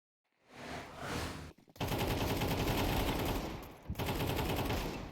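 Desert Eagle pistol shots in Counter-Strike 2 during a competitive match: loud dense gunfire fills most of the clip, with a brief gap early and another dip near the end.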